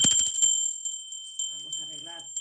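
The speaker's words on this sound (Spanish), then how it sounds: "Ahora sí, va campana." A bell rings with a bright, sustained metallic tone that lingers through the whole moment, struck during a tarot horoscope reading; a faint voice murmurs underneath toward the end.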